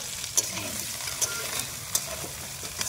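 Cumin and onion frying in oil, a steady close sizzle with a few sharp spatula taps against the pan at intervals.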